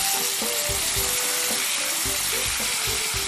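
Chicken braising with porcini mushrooms in a pan on a home kitchen stove, giving a steady, close frying sizzle with bubbling, faint clinks and brief low thumps from the cookware throughout.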